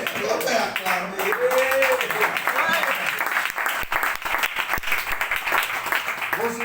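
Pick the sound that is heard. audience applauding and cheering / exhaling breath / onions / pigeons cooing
audience applauding and cheering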